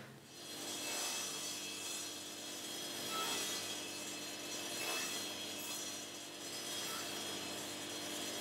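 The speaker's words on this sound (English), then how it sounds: "So now I'm just gonna cut these notches on all these pieces." A table saw cuts notches into wooden pieces for a queen-size platform bed frame, a steady, loud sawing whine that runs unbroken with slight swells and no talking.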